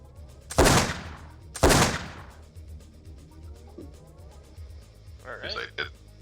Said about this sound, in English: So he fires at you with his rifle